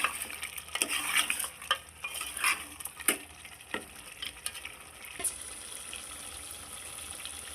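A spoon works through a simmering mutton curry spiced with red chili powder, scraping the pan in irregular strokes over a soft bubbling sizzle, with light metallic clinks.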